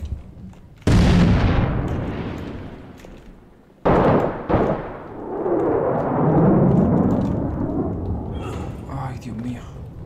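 Heavy explosions and gunfire erupt in the combat video game Six Days in Fallujah: a sudden loud blast, a rumbling lull, then a second booming detonation followed by sustained roaring and crackling battle noise.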